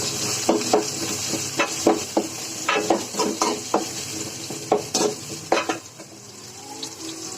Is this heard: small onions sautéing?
yes